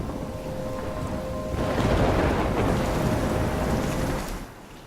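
Heavy rain pours with a rumbling thunderclap in a storm in the game Life Is Strange, the roar swelling loudly in the middle then easing back, with no talking over it.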